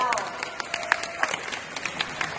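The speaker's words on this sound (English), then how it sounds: "Just clap." Audience applause at a Nu Skin company event, a scattered burst of claps from a crowd, moderately close, with a voice speaking over it.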